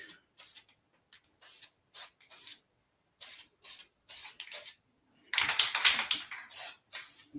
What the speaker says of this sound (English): I'm quite the rattle can painter here.